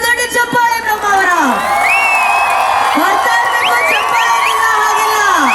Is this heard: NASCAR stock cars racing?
no